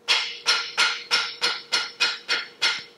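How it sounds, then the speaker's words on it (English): A soft hammer taps an axle bearing into its housing, nine evenly spaced, sharp knocks about three per second, close and loud, each with a short ringing decay and no talk. "and then we can just tap it with the soft hammer"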